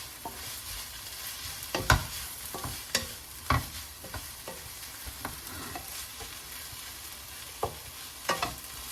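Onions sauté in a pan for Kerala-style theeyal with a soft, continuous sizzle, while a spatula makes scattered scraping and tapping strokes at irregular intervals, some sharper knocks standing out.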